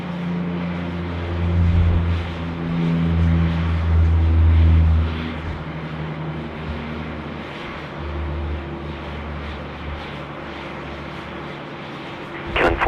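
A Jetstar Dash 8 turboprop takes off from runway 34 left at Sydney Airport, a sustained droning engine roar with low propeller hum that swells and eases as it passes at a distance.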